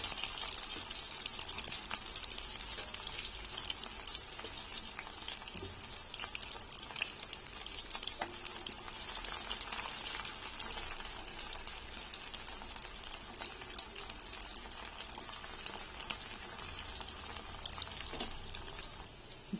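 Onion sizzles in hot oil with fennel seeds in a pan while a rajma gravy is being made, a steady close crackle and hiss that continues throughout without any talking.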